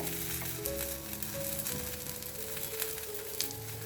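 Semolina breakfast batter roasting in a hot pan gives a steady, close sizzle and crackle with a faint low hum beneath, continuous and fairly quiet throughout, with no talking.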